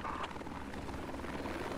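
Helicopter in the Project Reality military game, a steady broadband rotor and engine roar holding at even level for the whole moment, with no voices over it.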